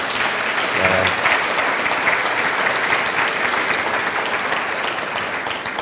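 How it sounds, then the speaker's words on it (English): A sustained round of applause from an audience for a tennis venture's founder at an event with Sir Richard Branson, loud, dense and steady clapping throughout, with a brief voice early on. "Give him a round of applause."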